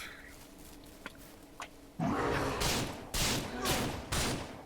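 Gunfire in a video game set on a working ranch, several loud sharp shots in quick succession after a short quiet stretch with faint clicks, close and punchy.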